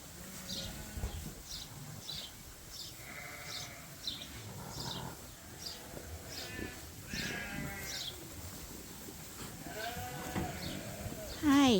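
Sheep bleat repeatedly on a farm, several overlapping calls spread across the clip at moderate distance amid busy pen noise, with a sudden loud burst at the very end.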